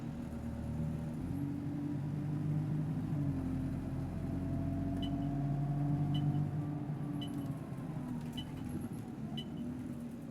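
An Enviro200 London Citybus in the OMSI 2 driving game hums along with a low steady engine drone, gear-like pitch shifts and faint interior rattles and clicks, no talk.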